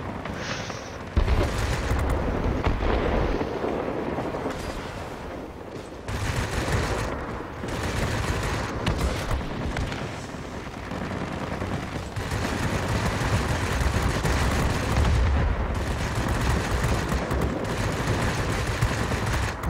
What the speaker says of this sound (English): Let's shoot down aircraft.